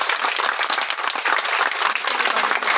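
A yoga convention audience bursts into sustained applause, dense overlapping clapping from many hands filling the room at an even, loud level with no talking.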